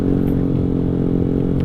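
Yamaha Aerox 155 automatic scooter with a tuned CVT and no bore-up, its engine running steadily close by with a dense, rumbling drone and slight mechanical clatter throughout.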